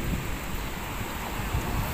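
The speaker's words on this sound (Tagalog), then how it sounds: "OMG, ang lakas ng hangin." Strong typhoon wind in Hong Kong roars steadily against the microphone, a constant broadband rush with low buffeting, and no talking.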